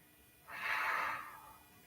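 A single breathy exhale during a yoga hip-rotation exercise, rising and fading over about a second, soft and close with no talking.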